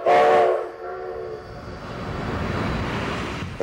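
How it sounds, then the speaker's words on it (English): Former Southern Pacific 460-class steam locomotive number 2248 pulls away from its service area, opening with a short, loud whistle blast that gives way to a steady, rumbling chuff and mechanical clatter as it moves off. "former Southern Pacific 460 steam locomotive number 2248 is leaving its service area and will couple onto its train"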